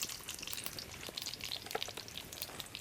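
Mustard seeds and whole cumin crackle and sizzle faintly in hot oil for a Kathiawadi stuffed chilli dish, a soft continuous frying hiss with scattered tiny pops.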